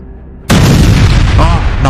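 In a comic-book audio drama, an artillery shell strikes a government fortress near a city: a sudden, heavy boom bursts in after a quiet start and its rumbling roar sustains loudly to the end.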